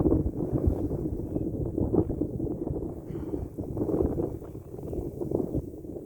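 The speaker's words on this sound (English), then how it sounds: "A big gust of wind just came." A strong gust of wind buffets the microphone on a mountain hiking trail, a loud low rumble that surges and eases over several seconds.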